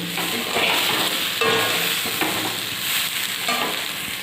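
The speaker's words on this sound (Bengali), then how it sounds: "এটা মধ্যে আমি এবার গরম জল দিয়ে দেবো" Hot water poured into fried lentils for khichuri sets off a loud, steady sizzle and hiss that lasts the whole stretch, with stirring clatter and brief bursts of spitting, and no talk.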